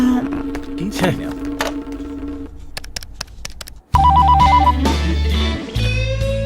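A telephone rings in a dubbed Indian film scene: loud electronic ringing tones and a bright repeating melodic pattern play over background music, with a short pause before the ring resumes more strongly.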